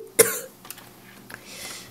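A single sharp cough close to the microphone, followed by quieter breathy throat noises and faint movement.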